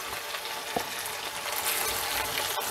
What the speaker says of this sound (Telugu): కట్ చేసుకున్నాం కదా శామగడ్డని, వేగండి ఇలా అన్నీ వేసేసుకోండి.